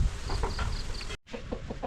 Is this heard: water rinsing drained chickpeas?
no